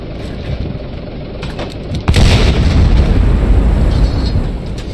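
A tank cannon fires in a tank video game with a sudden heavy boom about halfway through, followed by a loud rumbling roar of engine and battle noise that continues to the end.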